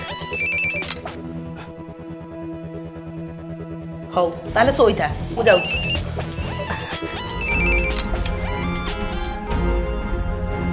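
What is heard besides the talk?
phone ringtone ringing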